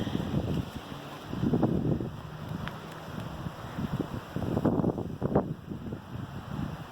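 Gusty wind buffets a garden outdoors, a rough, rumbling rush that swells and fades in waves across the whole stretch, loud and close like air striking the microphone.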